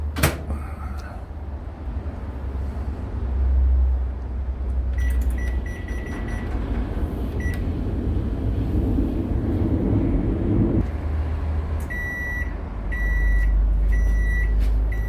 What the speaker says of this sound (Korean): 전자레인지에 놓고요. 보통 한 3분에서 5분 정도 이렇게 돌려주시면 됩니다.